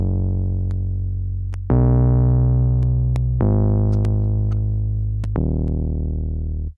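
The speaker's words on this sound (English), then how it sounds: "We switch out the bass at about 2 minutes in and it turns into this 808." A deep, booming 808 bass plays long sustained notes that change pitch every couple of seconds, loud and dominant. Sparse, crisp ticks tap lightly on top, and there is no speech.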